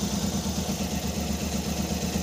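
Suzuki K6a minivan engine running rough, a close, steady idle with a lumpy, uneven low pulsing throb and constant mechanical hum.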